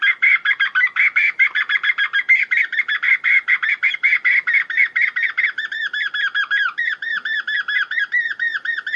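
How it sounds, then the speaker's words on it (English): A woodpecker call from a Primos Dogg Catcher electronic predator call: a fast, continuous series of sharp, loud chattering notes that shifts into clearer repeated whistled calls partway through, with nothing else heard. "And the last one's a woodpecker."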